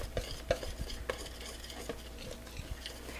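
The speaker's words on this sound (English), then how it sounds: "I'll mix that in. See how it's thickening up?" Homemade fudge mixture thickening in a pot as it is stirred, a spoon scraping and knocking against the sides in uneven strokes, close and fairly soft, with no talking.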